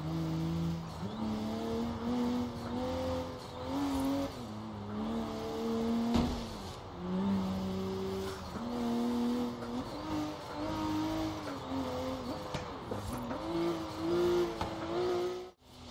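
Buggy engine in Forza Horizon 3 revving hard through gear changes, pitch climbing and dropping repeatedly with squealing tires, loud and continuous with no voices.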